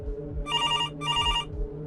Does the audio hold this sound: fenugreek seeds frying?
no